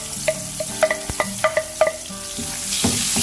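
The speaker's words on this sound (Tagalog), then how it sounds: "Maggisa na tayo ng sibuyas tsaka bawang." Onion and garlic sautéing in hot oil in a pan: a steady sizzle runs under a series of sharp clinks and scrapes from stirring, loud and close, with no talk.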